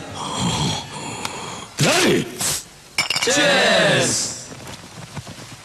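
Glasses clink together in a cheers toast in a Telugu film scene, with a couple of sharp, bright chimes and ringing tails. Groans and voices are heard around them.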